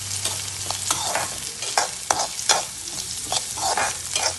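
Onions and green chilies sauté in a pan for a raw plantain thoran, with repeated spatula scrapes and stirs riding over a continuous sizzle, near and moderately loud, with no voices.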